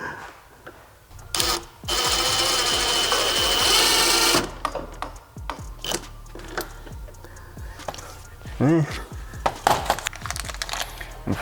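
A power driver sends self-tapping screws into a side skirt on an Infiniti G37, a loud whirring burst of about two and a half seconds followed by scattered clicks, knocks and handling noise up close.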